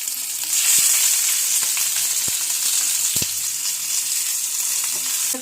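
Vetki fish paturi wrapped in leaves fries in oil in a pan, producing a steady close sizzle with a few sharp pops and crackles scattered through.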